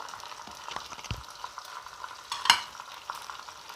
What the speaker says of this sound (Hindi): अब हमने इनको अच्छी तरह भून लेना है।